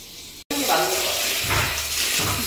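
Hot spring water gushing from a tap into a large hinoki wooden hotel bathtub, a steady loud rushing splash that runs throughout after a brief click at the start, close by.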